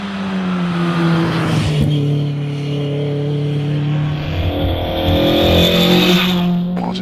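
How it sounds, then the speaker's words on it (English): A historic Alfa Romeo Giulia Sprint GT launches at the Prescott hillclimb, its engine revving hard and steady through the gears, loud and close with a strong droning note and no talk over it. "Coming off the line now, Ian Stringer in the Alfa Romeo Giulia Sprint GT"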